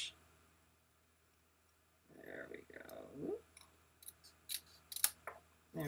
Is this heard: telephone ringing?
no